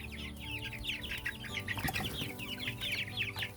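Six-week-old chicks free ranging outdoors for the first time keep up a dense, continuous chorus of high peeping and soft clucking close by, with a faint rustle partway through and no talking.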